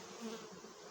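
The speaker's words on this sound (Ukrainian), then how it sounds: "так як в мене бджоли більшість йдуть верхнім льотком" Many honeybees buzz at a hive entrance in a dense, continuous hum close by, with a few individual wingbeats rising briefly above the swarm.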